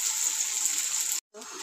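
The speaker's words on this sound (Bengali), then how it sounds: "তো এই তেলে আমি দিয়ে দেব পেঁয়াজ কুচিটা দিয়ে দেবো।" Chopped onion drops into hot oil and sizzles steadily, close and continuous, with a brief break near the end before the frying hiss resumes.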